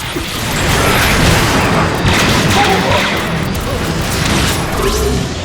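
Dense, continuous rumbling blasts and crackling booms from cluster bombs in the video game Transformers: Fall of Cybertron pile on top of each other, loud and chaotic like a rapid chain of explosions.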